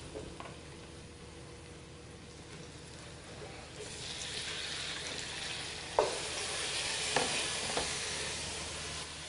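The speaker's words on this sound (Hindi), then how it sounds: "अब इसमें हम टमाटर को डाल देंगे" Chopped tomatoes tipped into a pan of frying onions for a pumpkin curry, a soft steady sizzle that swells louder as they go in, with a few sharp clinks of a spoon stirring against the pan.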